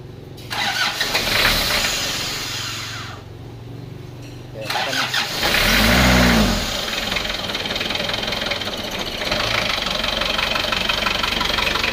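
A diesel car engine cranks and catches, then settles into a rough, clattering idle that continues steadily, with a few spoken words near the start.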